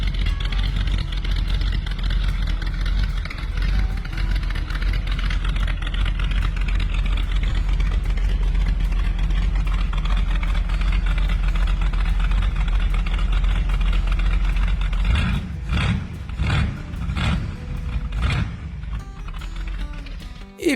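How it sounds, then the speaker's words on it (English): A custom car's Chevy 350 V8 idles steadily and close, a continuous low rumble that turns into several uneven revs toward the end. "and listen to this engine"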